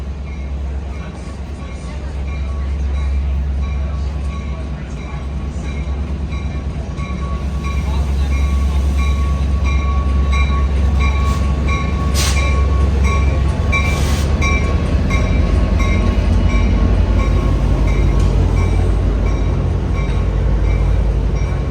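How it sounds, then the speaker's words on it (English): A Yosemite Mountain Sugar Pine Railroad train pulls into a station with a steady low rumble, faint wheel squeals and a tonal whine rising over about twenty seconds, with people talking nearby. "I guess this is our train coming in from the look of it."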